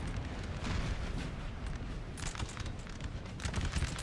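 Artillery cannons firing in the Napoleonic battle game Napoleon Total War, a dense rumbling barrage of booms and blasts layered over continuous battle noise, loud and constant.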